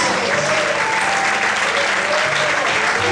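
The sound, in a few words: congregation applauding God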